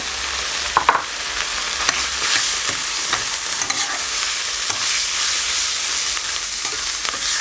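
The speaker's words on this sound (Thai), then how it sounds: "ก็ผัดจนสุกนะครับ" Sliced beef stir-fries with chilli paste and fish sauce for a Thai red curry without coconut milk: a steady, loud hiss of sizzling with scattered scraping and clacking of a utensil against the pan, close and unbroken, with no talking.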